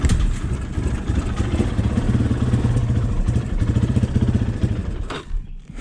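A Honda CRF230 dirt bike with the choke half on runs roughly up close, its engine chugging unevenly and bogging before it falters and cuts out near the end.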